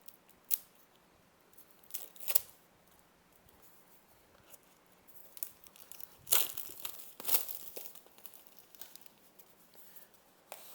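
Packaging for CCZ Melody earphones being opened, close, irregular cardboard rustles, crinkles and scraping slides with a couple of sharper snaps, alone in a quiet room.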